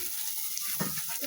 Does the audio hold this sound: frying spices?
yes